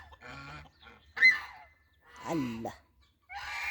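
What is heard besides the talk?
ducklings and chicks calling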